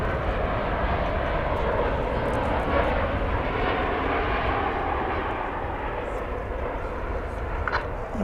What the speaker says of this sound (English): we'll zoom out a little bit here to see the arrival of Flight 2716 from Santa Ana, California, MAX 8